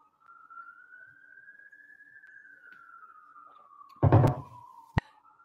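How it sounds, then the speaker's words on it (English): A single police siren tone slowly rising and falling in the distance, steady and faint, with a brief clunk and a sharp knock near the end. "Sorry about the siren."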